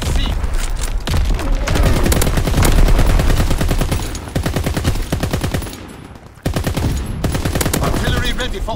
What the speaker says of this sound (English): Flak guns firing. Clearing the sky.